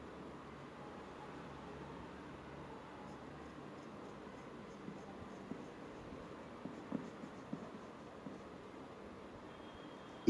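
A pencil draws a dotted line on paper during a geometry construction, a faint, soft scratching with a few light taps, quiet and close with no talking.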